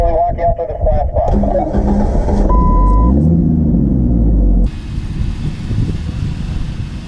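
An off-road vehicle's engine rumbles and revs in a loud, sustained drone as it is throttled while a winch pulls it during a trail recovery on Hell's Revenge, with people talking over it.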